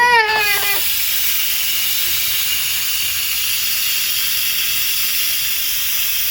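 An Instant Pot pressure cooker vents steam after its valve is knocked open with a pot holder, a loud continuous close hiss that starts abruptly with a short whistling squeal and then holds steady.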